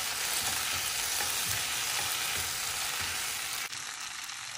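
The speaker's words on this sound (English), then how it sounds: "Then I'll stir." Pasta and cheese are stirred in a pan on low heat, making a continuous close sizzle with soft scraping strokes that stops abruptly near the end.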